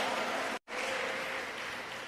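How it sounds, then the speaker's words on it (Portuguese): Applause from a church congregation during a service, a steady dense clapping wash that breaks off briefly for an instant, then resumes at full strength and carries on evenly to the end. "Vamos aplaudir a Ele"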